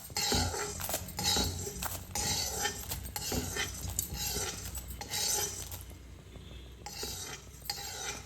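A plate and metal utensils handled in a home kitchen while cumin and ayurvedic ingredients are warmed for a kashaya, giving repeated close clinks, scrapes and clatters in irregular bursts with short pauses.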